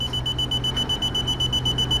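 A digital multimeter's voltage sensor alarm beeps in a fast, steady run of short, shrill, evenly spaced pulses, fairly close and alone.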